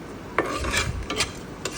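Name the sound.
dried chilies frying in pan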